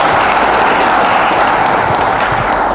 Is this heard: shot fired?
no